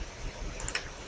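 A computer mouse clicks at a desk while a Minecraft mod is being installed: a few quick, light clicks bunched close together near the middle of a short, quiet moment.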